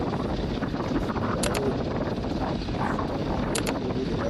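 A drone flies in Thalay Valley, its steady whirring buzz holding at constant loudness throughout, with a couple of brief high tones flaring near the start and end.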